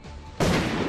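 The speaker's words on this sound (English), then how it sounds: "I am a random civilian with a shotgun." A shotgun blast in an animated parody: quiet background gives way to a single loud, abrupt boom with a broad, lingering noisy tail.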